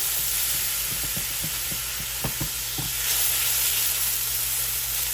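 Sweet goja filling mixture toasting in a pan, with a steady close sizzle and a series of soft stirring scrapes and taps through the first three seconds, no talk.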